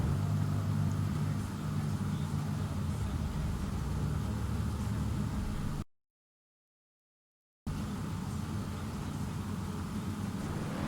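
A steady engine drone hums like cars in a racing game, interrupted by a brief full dropout before the low rumble resumes.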